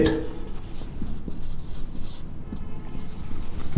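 Pen or chalk writing out a maths set problem on paper or a board, heard as a close, steady scratching and rubbing that continues without break throughout.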